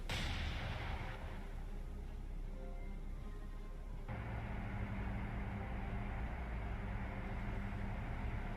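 Naval guns firing in the World War II naval game War on the Sea, a sharp opening blast that gives way to a distant, rumbling wash of sustained low noise.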